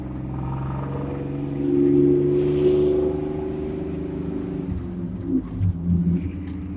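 A 2007 GMC pickup's 4.3-litre V6 idles with a deep, steady dual-exhaust rumble, catalytic converters burnt out, swelling briefly as it revs, then settling back with a few clunks and rattles near the end.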